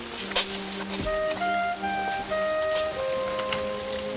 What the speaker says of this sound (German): Stehst dir einfach im Regen rum.